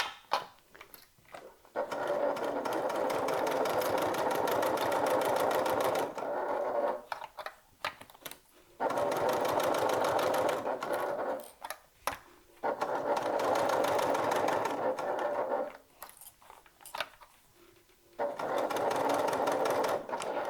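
A sewing machine bastes a top-handle bag piece closed with a 1/8-inch seam allowance, running close and steady in four long bursts separated by short pauses.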